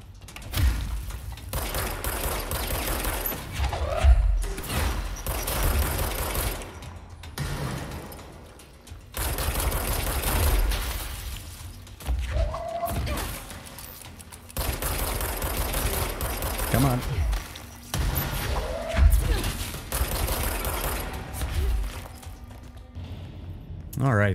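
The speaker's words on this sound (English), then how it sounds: "Oh, this guy throws grenades, or has a grenade launcher at any rate." An enemy grenade launcher fires in the video game Control, producing repeated heavy thumps and booming blasts mixed with gunfire bursts over roughly half a minute, while a player talks over the action.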